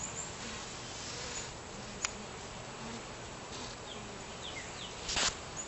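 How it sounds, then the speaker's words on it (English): Honey bees buzzing inside a top bar barrel hive, a soft steady hum with a few individual bees flying close past the microphone. "there's a ton of bees on this side"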